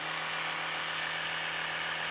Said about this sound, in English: It rotates at incredible speed, I'll just demonstrate that